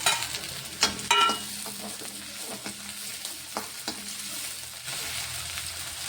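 Tomato goes into green chilies frying in oil, a steady sizzle broken by several spoon scrapes and taps early on, then stirring continues with the frying hiss holding close and even.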